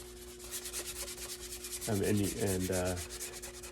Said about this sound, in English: This wet rag stage will sort of rub some of the excess paint around to the other areas